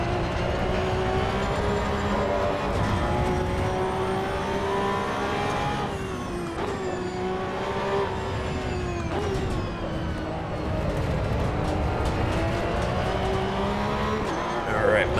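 A race car engine in the Assetto Corsa EVO driving game revs and shifts continuously at close range, its pitch climbing and dropping through gear changes with occasional tire squeal, loud and steady throughout.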